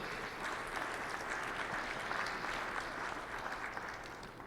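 Audience applause at a State of the County address, a steady wash of clapping that is moderately loud and continuous for the whole stretch, with no speech over it.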